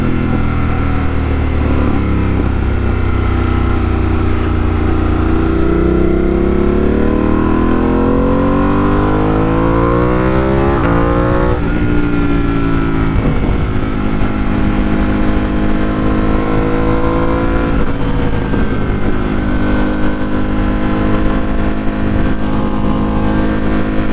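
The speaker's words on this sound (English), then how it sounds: "just enjoy the sound of the bike and the sunset" A 2025 Ducati Panigale V2S motorcycle engine roars loud and close, revving up and down through rising and falling pitch sweeps as it accelerates and shifts. No one speaks.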